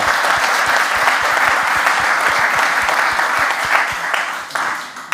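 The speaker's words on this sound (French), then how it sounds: "Noémie, si quelqu'un a envie d'applaudir, on peut faire parce qu'il y a tellement d'applaudissements." An audience at a cultural discussion event in Mulhouse breaks into loud, sustained applause, a dense continuous roar of many clapping hands that holds steady for about five seconds.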